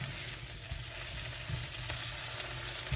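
Breakfast sausages frying in a pat of butter over medium heat in a pan, a steady close sizzle with faint crackles throughout and no talking.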